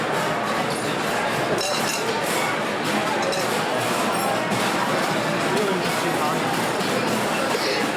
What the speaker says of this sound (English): we're hearing the crowd from the outside